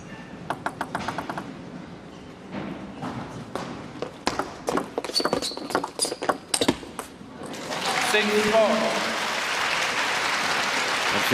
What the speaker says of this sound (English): Fans wanting to give their support.